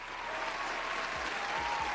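Applause from an audience fills the whole stretch, a steady dense wash of many hands clapping at moderate distance, with faint voices mixed underneath.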